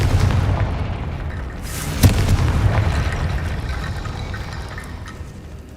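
The Confringo explosive spell in Hogwarts Legacy lands with a sudden sharp blast and rumbling boom over low game ambience, then tails off gradually.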